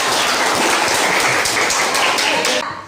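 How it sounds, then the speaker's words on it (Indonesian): Classroom applause for everyone, a dense, steady wash of clapping from a group of students that holds strong for nearly three seconds, then tapers off at the end. "Tepuk tangan buat semuanya"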